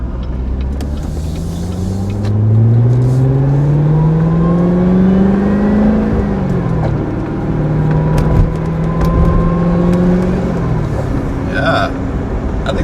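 A Corvette Z06 engine revs up and down through downshifts, a steady high supercharger whine rising and falling with the revs, close and loud throughout.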